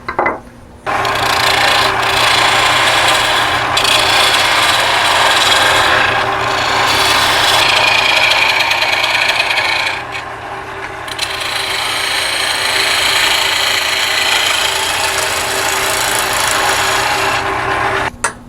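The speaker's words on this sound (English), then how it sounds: "Then I'll turn the brass a little bit." Brass being turned on a wood lathe for a tenon cutter handle, a loud continuous scraping rasp with a steady motor hum underneath, dipping briefly around the middle before resuming, with no talking.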